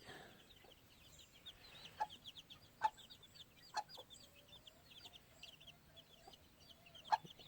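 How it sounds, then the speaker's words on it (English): A gamefowl hen clucks softly and intermittently, with faint high peeping of her chicks scattered throughout, fairly quiet and close. "Real pretty hen, healthy little chickens"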